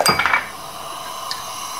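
A metal lid set onto a cooking pot of Filipino shrimp sour soup with pak choy, giving a few quick clanks at the start, then a faint simmering hiss; no talk.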